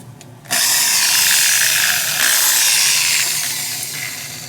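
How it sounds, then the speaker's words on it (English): An electric drill, plugged into a newly installed AC outlet in a 2014 Ram 3500 truck, starts abruptly and whirs at a steady high pitch nearby for several seconds, with a slight dip partway through. "we got a little drill here plugged in just to make sure everything works"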